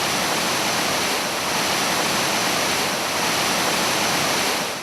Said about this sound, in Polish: Znajdujemy się przy wodospadzie Szklarki